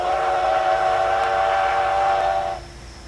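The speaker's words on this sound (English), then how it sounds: "A nice whistle there, I believe it's a CB&Q 5 chime." A CB&Q five-chime steam locomotive whistle in the High Iron train simulator game sounds one loud, steady, rich chord that holds for about two and a half seconds before cutting off.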